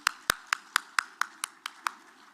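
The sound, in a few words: audience applause for a performer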